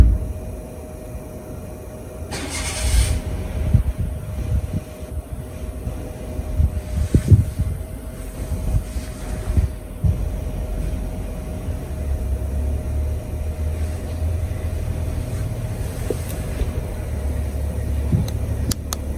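Exhaust from a Chinese FF heater, model E-10, with its muffler removed, gives off a steady, rough, low whooshing drone with uneven puffs and bumps, fairly near and continuous.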